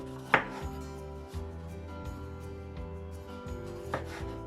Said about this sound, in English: peel off the onion, and now we're gonna cut them into slices like this, all of them